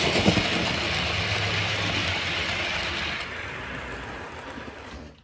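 A model railway train runs out of a tunnel on a layout, its wheels and motor giving a steady close whirring rumble with rail clatter that eases slightly toward the end before cutting off.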